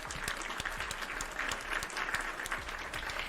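Steady applause from a crowd, dense and continuous clapping at moderate distance and no voices standing out.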